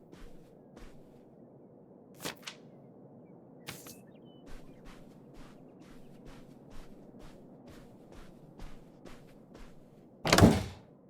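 Screwdriver prying at a door in the Open Roads video game: a string of sharp clicks and taps, a few heavier thunks, then a loud scraping rattle near the end.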